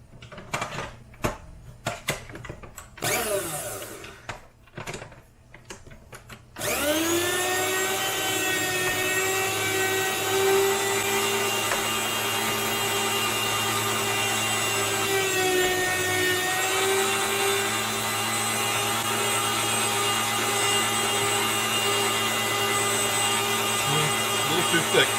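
An Ostba 200W electric meat slicer set to a 5 mm cut runs with a steady, close motor whine and hum that holds for about twenty seconds, after several seconds of sharp clattering handling knocks.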